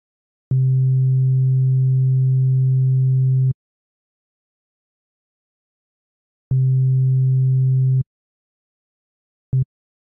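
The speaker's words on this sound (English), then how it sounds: "The switch is a fast attack, full sustain, fast release envelope, which you would use to emulate an organ sound." Synth1 software synthesizer tone shaped by a switch-style amplitude envelope with fast attack, full sustain and fast release, heard as a steady organ-like buzzy note held about three seconds, a second similar note, then a very short blip, each with a clean start and stop.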